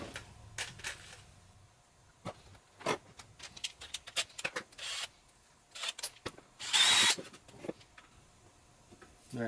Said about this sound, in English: The next one, I'm definitely going to drill out just a little bit.